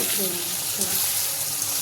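Paneer fries in a kadai with a close, steady sizzle and fine crackling, briefly and without pause.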